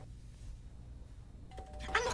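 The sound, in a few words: doorbell ringing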